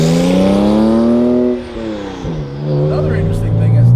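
A 2007 Porsche 997.1 Turbo cruising, its engine a loud, steady, close hum that dips as it shifts and then climbs again under acceleration, with faint background noise and no clear speech.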